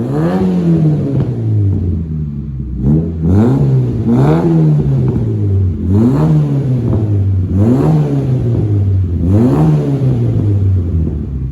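A forged 4G15T engine with a TD05 turbo in a Mitsubishi Colt Ralliart, with custom downpipe and 3-inch custom exhaust, revs again and again, rising and dropping in a steady rhythm of about six blips, close by.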